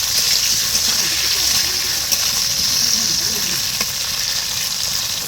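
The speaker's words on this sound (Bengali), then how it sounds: "আলুগুলো একটু লাল লাল করে ভেজে নিই" Potatoes frying in hot oil, a dense continuous sizzle close up with light stirring and bubbling, steady in loudness, no speech over it.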